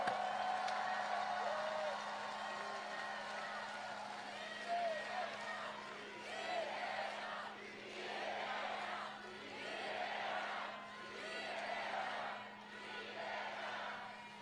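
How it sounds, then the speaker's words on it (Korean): Crowd at an outdoor election campaign rally in Guri, South Korea, breaks into applause and cheering, heard as several rhythmic swelling waves of clapping and shouts at moderate distance, fairly faint over a steady background hum. "한번 격려의 박수, 축하의 박수 부탁드립니다."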